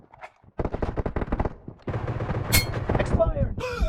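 Loud, rapid bursts of Groza rifle fire, unsuppressed, in the PUBG Mobile game, several quick volleys with brief gaps, a voice breaking in near the end.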